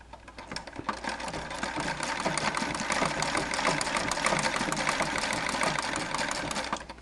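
A Singer 237 sewing machine with a tightened clutch wheel runs steadily under pedal control, its motor and needle mechanism whirring in a fast, continuous mechanical chatter with no thread loaded.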